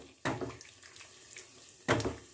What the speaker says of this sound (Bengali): এবার এর মধ্যে দিয়ে দেবো আমি একটু জল